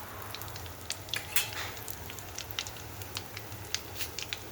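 Asafoetida tipped into hot oil for tempering, with mustard seeds already in the pan, makes a faint sizzle with scattered small crackles and pops close by, no speech.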